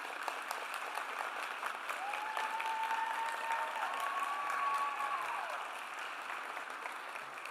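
An audience at a nursing graduates' pinning ceremony applauds the graduates' spouses and supporters, a sustained wash of clapping from a crowd in a hall that holds steady throughout, with a faint tone sliding faintly beneath.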